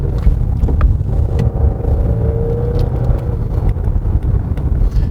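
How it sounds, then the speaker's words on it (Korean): A Genesis G90 AWD sedan in comfort mode accelerates on a winding road, its engine a deep continuous rumble heard from inside the cabin with a rising tone midway. "네, 약간의 지체가 있은 다음에 쑥 튀어나갑니다, 차는."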